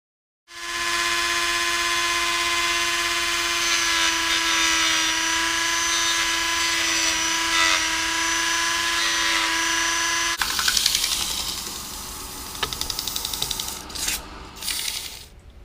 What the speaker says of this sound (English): when it sets up, I'll sand off the excess